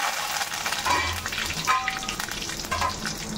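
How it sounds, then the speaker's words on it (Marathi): Mustard seeds and curry leaves sizzle in hot oil in a kadhai, a continuous close crackle with sharp pops and spits scattered through it, no one speaking. "तेल चांगलं गरम झालं की त्याच्यामध्ये मोहरी टाकायची आहे आणि कढीपत्ता"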